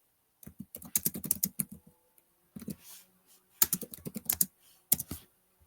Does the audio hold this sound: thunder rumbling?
no